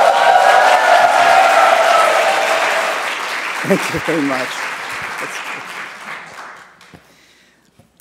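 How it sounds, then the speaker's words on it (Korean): A lecture audience on Reformed moral theology cheers and applauds loudly to welcome the speakers, the clapping strong at first and then thinning out and fading, with someone briefly speaking over it. "큰 환호와 박수로 맞이하겠습니다"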